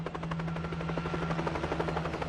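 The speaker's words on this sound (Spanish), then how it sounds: "el rugido del motor a reacción de este helicóptero ligero" A light helicopter with a jet turbine engine passes overhead, its steady high whine layered over a rapid, rhythmic beat of rotor blades, loud and constant throughout with no voices.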